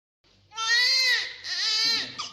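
A newborn baby cries loudly and close, two long wailing bursts with a short break between them and a brief whimper at the end.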